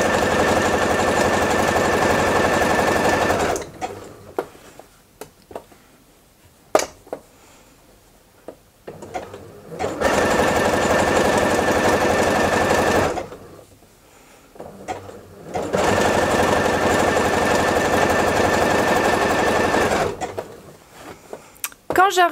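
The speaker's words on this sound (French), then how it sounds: "je refais quelques points par-dessus, un petit point d'arrêt et je peux sortir mon ouvrage" Sewing machine stitching elastic onto boxer shorts, running in steady loud bursts of several seconds separated by quiet pauses and brief handling noises.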